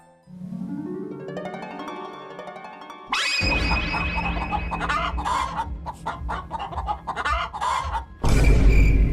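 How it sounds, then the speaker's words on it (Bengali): Hens cluck and squawk in a frantic, agitated burst at night, several birds calling over one another close by after a musical lead-in, ending in a louder flurry. "এক রাতে বুড়ির মুরগিগুলার আওয়াজে ঘুম ভেঙে গেল।"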